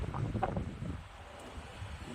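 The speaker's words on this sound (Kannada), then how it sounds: "ಗಾಳಿ ಬೀಸ್ತಾ ಇದೆ ಜೋರಾಗಿ" Steady, strong wind buffeting the microphone, a low rumbling roar that surges and eases without pause, with no voices.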